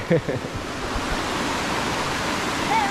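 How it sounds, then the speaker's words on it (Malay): A river stream on a Gunung Nuang hike rushes in a steady broadband roar, close and loud, with brief voices near the start. "Sungai kedua."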